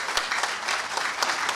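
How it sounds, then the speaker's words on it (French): A crowd at the inauguration ceremony of a technical and vocational high school in Haiti breaks into steady, dense applause, loud and even throughout, with a few sharper individual claps standing out and no speech. "Un bon d'applaudissements pour feu Joseph C."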